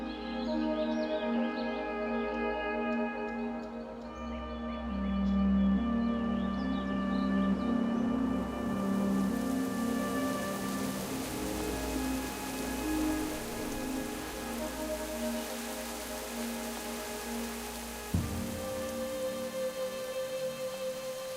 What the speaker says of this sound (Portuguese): a chuva vem devagar